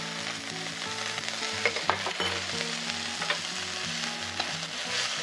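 Garlic chives for japchae stir-fried in a pan with steady sizzling, overlaid by rhythmic, repeated scraping and tapping of a utensil against the pan, fairly close and moderately loud throughout.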